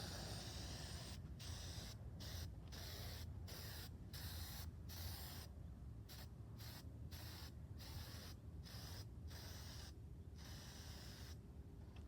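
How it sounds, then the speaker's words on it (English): Silicone spray is applied to a 2011-2018 Porsche Cayenne windshield during replacement, heard as a steady close hiss broken into a series of short bursts and pauses, with no talking. "my son already has the silicone spray"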